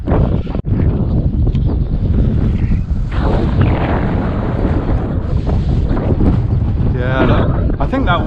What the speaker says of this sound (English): wind is actually picking up more even as I'm standing here